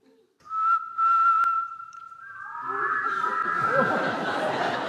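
A clear, steady whistled tone held for about two seconds, followed by a burst of laughter and excited chatter from a group.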